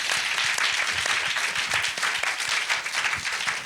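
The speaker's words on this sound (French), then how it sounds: "On peut les applaudir" Dense, steady applause from a festival audience, cheering the volunteers; many hands clapping together at full volume without a break.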